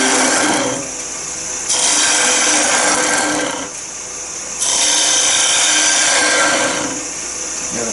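A gouge hollowing the inside of a wooden bowl on a spinning lathe gives a loud, steady rasping hiss that swells and eases in long strokes, close up and without speech.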